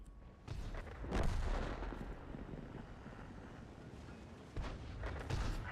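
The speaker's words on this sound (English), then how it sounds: "Watch as artillery comes down to nail me here." Artillery shells crash down in a tank battle game, heavy booming blasts arriving in bursts with rumbling aftermath between them, fairly distant and dull rather than sharp.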